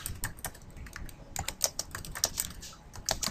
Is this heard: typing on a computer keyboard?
yes